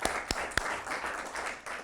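Group of children at a scouts gathering clapping for themselves after spelling bee results, a brief burst of close applause with a few sharper claps standing out, fading slightly toward the end.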